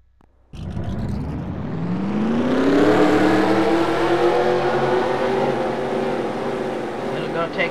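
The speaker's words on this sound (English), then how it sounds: "Here we go with the command to start the engines." Race car engines at Bristol fire up on command for a heat race, bursting to life and swelling into a loud, sustained, rising revving roar of many cars idling and blipping together.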